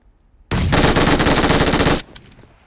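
AKM assault rifle from PUBG Mobile firing one loud, sustained automatic burst of about a second and a half, rapid tightly packed shots close up, then cutting off abruptly with faint game ambience after.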